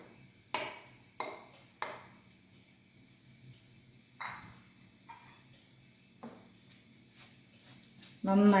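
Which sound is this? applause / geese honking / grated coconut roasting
grated coconut roasting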